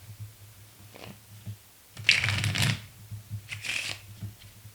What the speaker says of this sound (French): Et je vais la remettre dans le jeu. Je peux mélanger pour bien la perdre.